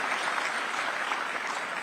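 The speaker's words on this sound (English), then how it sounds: "So we can have a round of applause for that." Audience applause at the Rising Bharat Summit 2025, dense steady clapping from a large crowd filling the whole moment at an even loudness.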